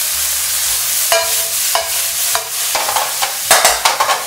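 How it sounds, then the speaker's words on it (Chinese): Pickled mustard greens stir-fried with soy sauce in a wok, close sizzling with repeated sharp spatula scrapes and tosses, louder toward the end, no talking. "炒出酱香味以后，"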